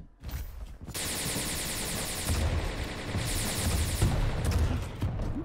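Rapid, sustained gunfire from the arena shooter Quake Champions during a 1v1 tournament grand final, with dense overlapping shots and bursts that run continuously and loudly from just under a second in to the end.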